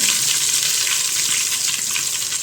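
Mustard seeds, cumin and asafoetida splutter in hot oil with a dense, close, unbroken crackling sizzle and no talking.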